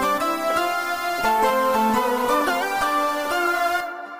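A Roland Blazay kompa keyboard patch played in MainStage 3 with heavy reverb: sustained chords and melodic notes ring out and wash into each other, loud and continuous, then fade away at the end, with no talk.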